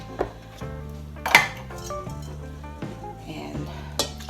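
Spoon clinking and scraping against a dish while sweetened condensed milk and lemon juice are stirred together for an orange slice pie, with repeated close metallic taps and chinks over a steady mixing rhythm.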